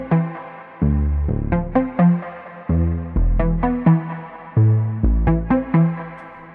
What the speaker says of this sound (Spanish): les voy a enseñar a hacer este plug que suena cálido, que suena oscuro y algo gordo